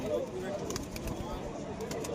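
Pigeons coo at a busy pigeon market, soft repeated calls mixed into a murmur of nearby voices and crowd noise.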